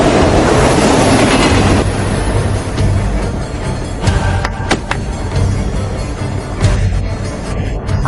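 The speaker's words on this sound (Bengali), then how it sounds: "ওই ট্রেনটা এদিকে এগিয়ে আসছে।" A train rolls close by in an anime scene, loud and continuous rumbling with a steady rail clatter and a few sharp metallic squeals and clicks toward the end.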